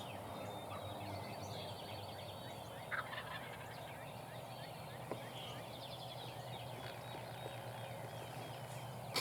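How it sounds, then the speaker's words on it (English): A wild turkey gobbler gobbles a few times at a distance during an opening-day spring hunt, the calls standing out over steady outdoor background noise with other birds. "Oh, that gobbler's coming in towards us."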